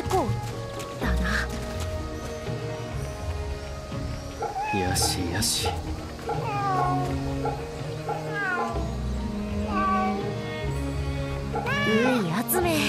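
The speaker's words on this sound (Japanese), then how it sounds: "猫だな。" Repeated cat meows ring out in the video game Fate/Samurai Remnant, several drawn-out mewing calls spaced across the scene over background music, with someone speaking briefly.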